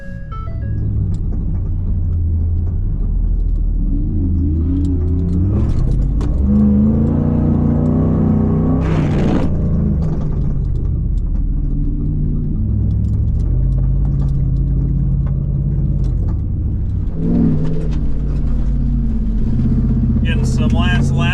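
An off-road truck loaded with extra weight runs laps across sand dunes, its engine droning steadily and rising in revs at moments throughout, close and loud beneath people talking.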